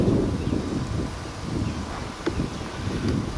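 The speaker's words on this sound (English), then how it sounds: "I'm noticing that the wind is going from my left to my right." Outdoor wind at a bee hive buffets and rumbles against the microphone in a steady low roar, with faint rustling throughout.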